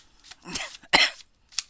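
A few short, dry coughs close by from dusty cards, with brief quiet gaps between them.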